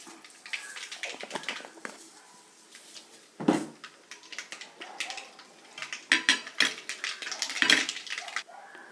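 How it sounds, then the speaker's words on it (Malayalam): Mustard seeds crackle and pop in hot oil, a scattered series of sharp, irregular bursts, some louder than others, close by. "കടുക് പൊട്ടി കടുക് പൊട്ടുമ്പോഴേക്കത്തേക്കും"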